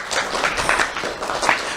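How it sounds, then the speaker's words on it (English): Audience applause for the parents at a December awards ceremony, a steady wash of many hands clapping together for about two seconds with no pause. "let's give our parents a round of applause"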